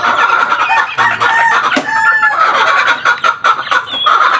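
Chickens, including a hen, cluck and crow loudly and close by in a busy, overlapping flurry of calls, with no talking.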